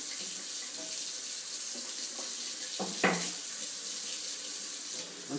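Running tap water splashes steadily into a sink while oil-paint brushes are rinsed clean by hand, a continuous close hiss with a brief louder gush partway through.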